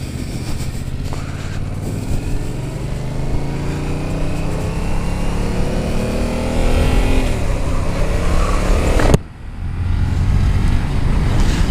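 A 2020 Yamaha Tracer 700 motorcycle engine heard while riding, a loud steady thrum that rises in pitch through the gears with a brief drop at a shift near the end, mixed with wind rush.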